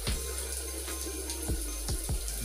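Water runs steadily from a newly fitted home shower, a continuous close hiss with a few sharp clicks or knocks over it and no voices.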